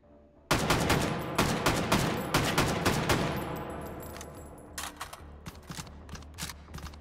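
Rapid, loud gunfire in the VR game Hot Dogs, Horseshoes & Hand Grenades on a custom tower map. A dense volley of close shots starts abruptly, then thins into scattered single cracks.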